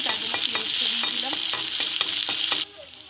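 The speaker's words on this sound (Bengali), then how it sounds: "পেঁয়াজ লাল লাল করে ভাজা হয়ে গেছে" Onions fry in a pan for a fish curry with nuts and aubergine, a dense steady sizzle with repeated scraping stirs of a spatula, cutting off abruptly near the end.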